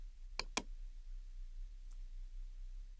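Two quick, crisp computer mouse clicks close together near the start, then a quiet room hum and one faint tick later, with no talk.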